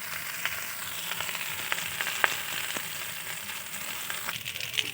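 Homemade pasta fries in a pan with a soft, steady sizzle and a few sharp crackles and stirring clicks. The sound is quiet and close, and no one speaks.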